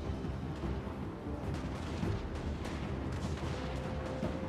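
Dwarf Thunderers firing handguns in a Total War: Warhammer battle, a dense continuous rumble of overlapping shots and distant booms that blend into one steady roar with no clear separate cracks.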